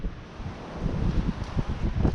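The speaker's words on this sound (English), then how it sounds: "Oh, it's windy out here today." Steady wind buffets the microphone, a low rumbling roar with gusts swelling and rustling, no voices.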